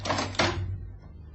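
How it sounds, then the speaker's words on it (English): A door in an old radio drama is opened, giving two quick clunks of the latch and handle followed by a short creak over a low room hum, fairly close and with no talk. "Open the door."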